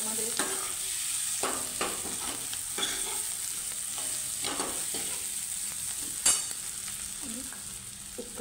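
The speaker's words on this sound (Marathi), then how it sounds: "आणि बटाटा परतवून घ्यायचं मसाल्यामध्ये." Potatoes sautéed in a pan with spice masala and asafoetida for a puri bhaji dish, giving a steady close sizzle with repeated scraping stirs of a spoon against the pan, no voices.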